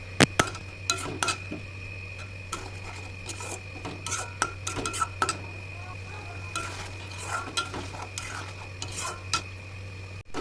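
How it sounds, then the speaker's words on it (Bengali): Spice paste with a pinch of sugar being stir-fried in oil in a pan for papad dalna, a steady low sizzle broken by frequent scraping spatula strokes and metal clinks against the pan, close-up, no talk. "মশলাটাকে আমি পুরোপুরি তেল ছাড়া পর্যন্ত কষিয়ে নিচ্ছি"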